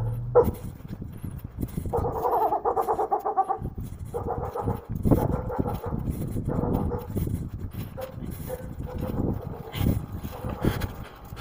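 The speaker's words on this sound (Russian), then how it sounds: "Слушай, этих собак тут развелось." Stray dogs in a city bark and whimper in a scattered series, some yips overlapping, at moderate distance with background noise in between.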